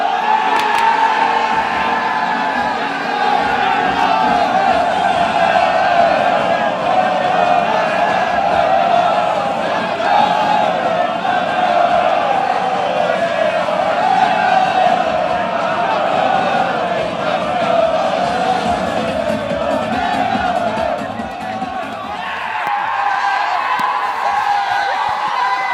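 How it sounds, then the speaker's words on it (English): A large crowd of around 950 at Jenner Park cheers and roars through a Barry Town trophy presentation for the Welsh League Division 1 champions, a dense, sustained wash of voices that dips briefly near the end. "in front of a bumper crowd at Jenner Park"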